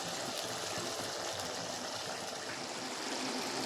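Paneer simmers in about half a bowl of water, a soft, continuous bubbling and trickling hiss at low volume with no voices.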